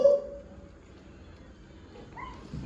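A puppy gives a brief, faint whimper and a small yip near the start, followed by quiet background with only soft, scattered sounds.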